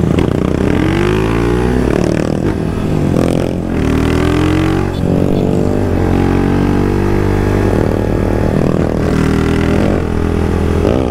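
Honda Start 160 motorcycle fitted with a GRS curva fina exhaust, revved repeatedly at close range, loud throttle blips rising and falling with an uneven idle between them and no talking.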